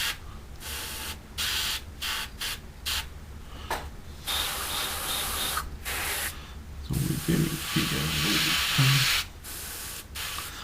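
An airbrush sprays paint onto a 1/72 scale plastic model Lancaster bomber kit in short hissing bursts separated by brief pauses, close and steady, with a few faint mechanical rubs between passes.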